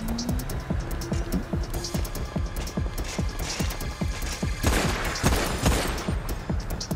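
Gunshots ring out in a long, rapid string of sharp cracks, fairly steady in rhythm and moderately loud, over a faint background.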